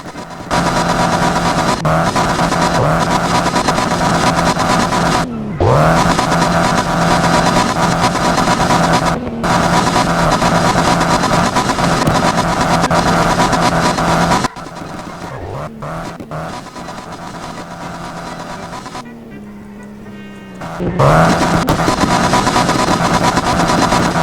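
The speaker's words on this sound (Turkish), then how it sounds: "Egzoz çok iyi patlıyor bu arada." A car engine in the Roblox video game revs hard and drones loudly, its exhaust popping, with sudden cut-offs and drops in pitch as the throttle is let off and then opened again.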